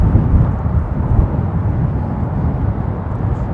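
A jet airliner takes off from Heathrow runway 27L, a loud, continuous low roar and rumble of engines that stays steady throughout with no voices.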